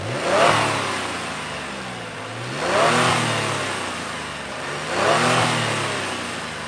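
A 2022 Genesis G70 3.3T twin-turbo V6 is revved three times with the hood open, each blip rising and falling smoothly at a steady rhythm, heard up close from the front of the car.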